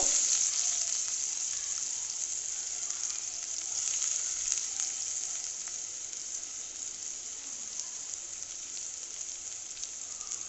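Chopped onion frying in a pan, with a steady, bright, close sizzle that stays loud and then eases slightly over time.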